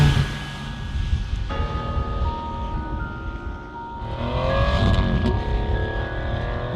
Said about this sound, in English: This livens up the throttle response and makes the exhaust even more obnoxiously loud.